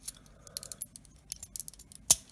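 Plastic pegs on a Transformers Devastator toy figure being pressed into place, giving a few small, sharp clicks with light handling rattles close up, ending on one crisp snap.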